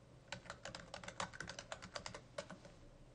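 Search text is typed on a computer keyboard, a quick, quiet run of close key clicks in an uneven rhythm, alone.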